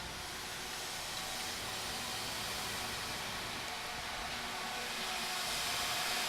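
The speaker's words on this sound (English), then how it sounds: "There has just happened to be a cleaner truck come down my bloody road." A street cleaner truck passes along a residential road, a steady broad hiss and rumble like brushes and water spray, moderately distant and constant, without talk.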